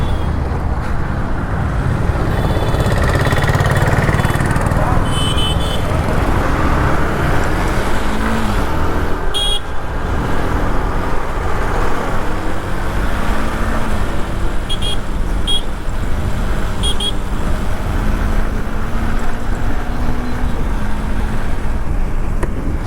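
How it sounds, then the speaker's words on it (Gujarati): An old motorbike valued at around 30,000 rupees rides along a road, its engine drone and road rumble steady and fairly loud for the whole stretch, with no talking. "જો ભાઈ કેવી ભાગે છે આપણી બાઇક."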